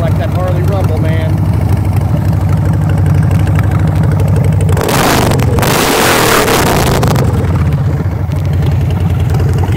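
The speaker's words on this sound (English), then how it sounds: "ain't nothing like that Harley rumble" A 1999 Harley-Davidson XL1200C Sportster Custom V-twin engine idles with a steady, loud, close-up rumble, broken midway by a brief burst of throttle and louder roar before settling back to idle; someone talks over it.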